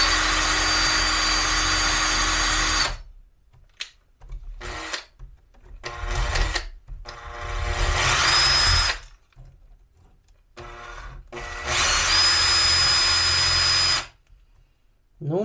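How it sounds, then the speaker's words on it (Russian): A cordless screwdriver spins a grinding bit against a chainsaw chain in several bursts of high whirring and metal grinding, separated by short pauses, close and loud. "мы это сделаем также с помощью шуруповерта либо другого вращающегося инструмента того же гравера"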